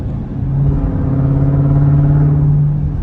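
A Jeep Grand Cherokee Trackhawk engine drones loudly and close, its pitch holding a steady hum as it revs, rising then easing off over a few seconds.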